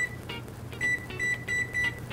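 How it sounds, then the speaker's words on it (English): A kitchen oven timer gives a series of short, high electronic beeps in a loose, repeating rhythm, moderately loud over a low background hum. "I'm putting my timer on for 50 minutes"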